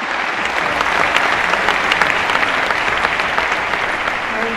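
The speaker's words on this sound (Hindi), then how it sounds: "जोरदार तालियों से स्वागत करें वहीदा जी का।" Loud, dense applause fills a hall at the 69th National Film Awards ceremony, welcoming an award recipient to the stage, with steady clapping throughout and no talk.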